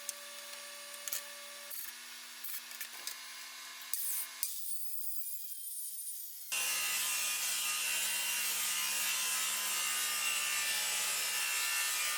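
Parota wood board having its ends trimmed with a homemade track saw, with scattered taps and handling noises first, then a loud steady power saw roar cutting through the wood for several seconds, close by.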